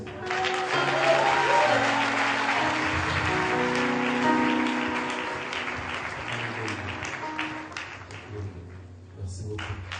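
A church congregation applauds at a bishop's investiture, with loud sustained clapping that gradually thins out, over a low musical drone and some voices.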